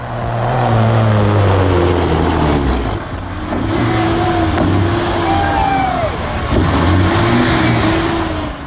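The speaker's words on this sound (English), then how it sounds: "it's a pristine white Kenworth W900, but under the surface, it's a black smoke-belching, adrenaline-pumping beast with a Caterpillar" Kenworth W900 truck with a Caterpillar 3406E diesel engine running, a loud, steady low rumble that swells and eases in a few revving surges, with a faint whistling tone above and no voices.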